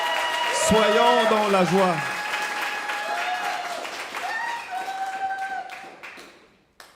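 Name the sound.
church congregation applauding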